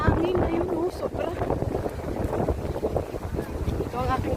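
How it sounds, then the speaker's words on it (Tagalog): A strong wind blows hard and steadily against the microphone outdoors, a continuous loud rumbling rush. A voice is briefly heard in the middle of it. "Mahangin na yun, oh, sobra."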